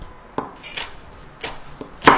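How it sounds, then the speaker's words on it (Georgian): Dill being finely chopped with a knife on a board, several sharp, close, separate knife strikes at an uneven pace, the last one loudest. "წვრილად ჭრით კინძს"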